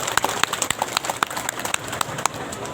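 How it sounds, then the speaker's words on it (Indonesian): A crowd applauds at the closing night of the Gawai Dayak XI festival in Sekadau: brisk, scattered hand claps patter steadily for a few seconds, fairly close and without voices. "Untuk itu kita tepuk tangan dulu untuk masyarakat kita."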